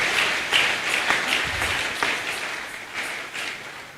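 A church congregation applauds and acclaims a pastor during a service, a sustained patter of many clapping hands with brief swells, loudest early and easing gradually toward the end.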